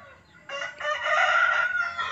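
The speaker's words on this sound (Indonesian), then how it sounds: "Ayam betina berkokok." After a quiet start, a hen lets out a single drawn-out crow, close and loud, that swells and holds to the end.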